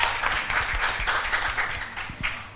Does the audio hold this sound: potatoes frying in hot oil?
no